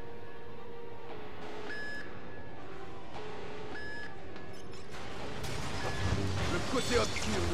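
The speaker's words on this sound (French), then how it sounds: "Je sais plus dans lequel on entend une alarme comme ça." An alarm beeps in LEGO Star Wars: The Skywalker Saga, a repeating electronic tone in short pulses, moderately loud, with game sounds building toward the end and a voice talking at times.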